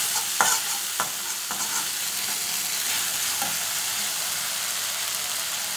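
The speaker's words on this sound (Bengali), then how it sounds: "মশলাটা একটু নেড়ে নিচ্ছি।" Spice paste being stirred as it fries in a pan with tempered spices for a vegetarian khamalu (yam) dish, a steady close sizzle with a few sharp scrapes of the spoon early on.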